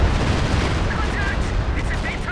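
Support gun fire pounding a machine gun nest in a trench during a Company of Heroes 2 3v3 battle, dense rumbling bursts and booms merged into a continuous loud barrage under faint voice.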